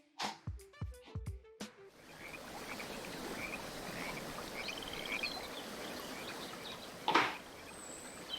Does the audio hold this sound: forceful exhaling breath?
no